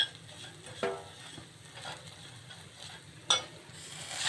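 Ingredients for a homemade energy milk roast softly in a pan, with a faint low sizzle and a couple of sharp stirring clinks.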